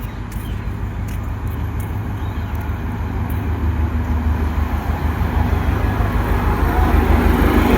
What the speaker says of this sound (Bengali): ট্রেন এখন আমবাসা ঢুকতেছে।